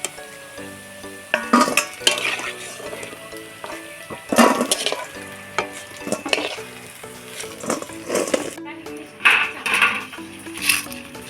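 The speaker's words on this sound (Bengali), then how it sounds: "আমি এইভাবে সবগুলো তুলে নেব।" Fried mohan pitha, a palm-fruit sweet, is lifted piece by piece out of a pan of hot oil, with steady sizzling and frying under intermittent clinks and scrapes of a utensil against the pan.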